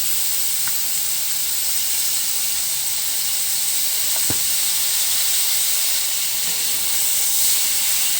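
Food frying in oil in a home kitchen pan, a steady loud sizzling hiss throughout with a couple of faint knocks as it is stirred.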